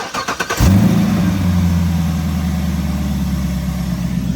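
A 2SS Camaro's V8 engine cranks with a few quick rhythmic chugs, then catches and settles into a loud, steady, rumbling idle close by, with no voices.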